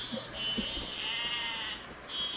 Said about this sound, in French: Il y a un mouton qui est avec toi.